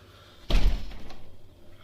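A door is shut indoors with a single solid thud, close and fairly loud, followed by a brief rattling decay and then soft room noise.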